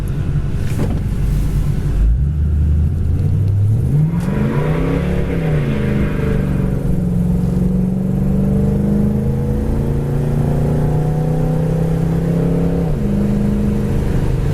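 A 1972 Buick Skylark GS muscle car engine hums and revs up smoothly on the road, rising in pitch as it accelerates, then settles into a steady low drone while cruising.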